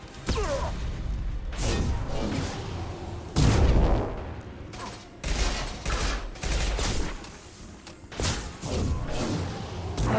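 Weapon fire in the Mass Effect 2 action game rattles through a dense, loud stretch of repeated shots, impacts and thuds, with brief lulls between bursts and no spoken words.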